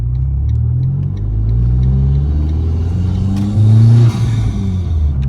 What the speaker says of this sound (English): That sounds so good. Cowl intake on the Fiat Abarth.